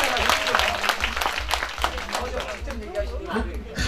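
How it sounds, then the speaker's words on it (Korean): Festival spectators clap briefly during an outdoor performance by a small touring troupe at a ceramics festival, the applause mixed with lively chatter, laughter and a musical backing underneath. "박수 쳐주세요 우리 선배님"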